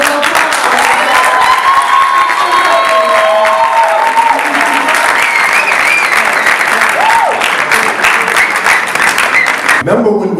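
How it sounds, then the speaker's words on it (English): A large audience at a spoken word poetry event bursts into sustained, loud applause that fills the space for about ten seconds, with scattered cheering and crowd voices mixed in, before cutting off abruptly at the end. "So if you could all give him a round of applause."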